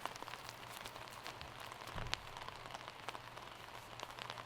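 Rain falls steadily on a disc golf course, a soft, faint patter of drops with a few slightly louder taps and no voices.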